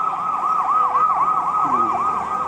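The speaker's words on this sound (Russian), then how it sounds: "А, это полиция даже. Полиция едет." A police car siren wails in a steady, repeating yelp pattern as it passes through a city intersection in Yakutsk on a warm summer evening, loud and close over low traffic rumble.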